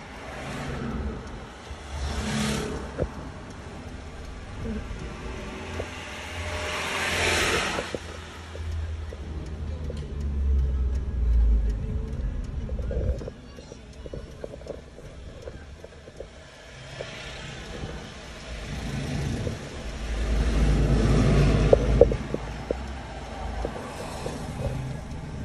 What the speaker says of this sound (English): I'm giving you a peek at the traffic next to the school.